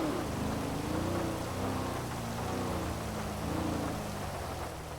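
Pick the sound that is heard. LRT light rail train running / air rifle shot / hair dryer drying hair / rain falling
rain falling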